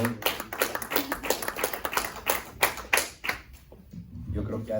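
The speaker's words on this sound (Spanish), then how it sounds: "Denle un fuerte aplauso a la hermana Ruth, hermanos" Church congregation claps loudly for a sister in a Spanish-language service, irregular sharp hand claps in quick bursts that thin out and fade toward the end, with voices faintly underneath.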